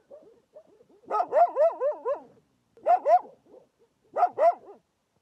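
Dogs bark and yelp in three quick clustered bursts, several animals snarling and yipping over one another with short silent gaps between, fairly close in a quiet night setting.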